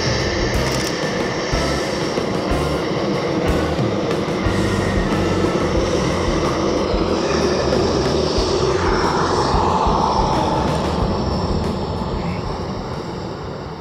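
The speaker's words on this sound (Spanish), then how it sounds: "cómo se oyen las turbinas a la hora de despegar un avión" Jet turbines of an airliner roar during takeoff, a powerful sustained rumble with whining high tones that shift in pitch. The roar stays loud and steady throughout, heard outdoors at an airport spotting location.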